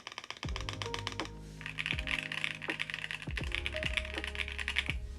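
Close, crisp clacks come from a custom-built Vega 65 mechanical keyboard with Alps-style switches, typed in quick bursts of sharp keystrokes with resonant pings and a few heavier bottom-outs.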